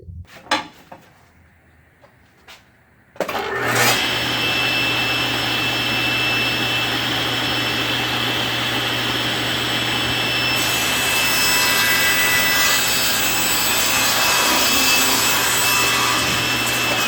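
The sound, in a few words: table saw making a rip cut in wood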